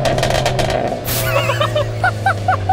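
Exhaust of a Hyundai Avante N, Veloster N or Porsche Cayman sports car, a loud, close, steady engine drone with a brief rise in pitch partway through.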